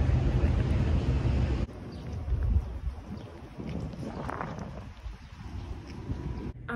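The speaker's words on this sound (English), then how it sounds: "It's like kind of windy outside, and I love it." Gusty wind buffets and roars across the microphone outdoors, loud at first, then easing into a steadier rush.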